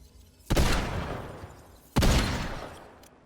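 Two separate booming pulse pistol shots ring out in the video game Fortnite, about a second and a half apart, each followed by a long, fading tail, with no talking.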